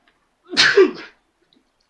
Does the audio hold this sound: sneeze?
yes